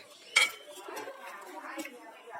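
Boiled peas and potatoes mashed in a pot, with a sharp metal clank of utensil against the pot near the start followed by softer scraping and squashing sounds, close and fairly quiet.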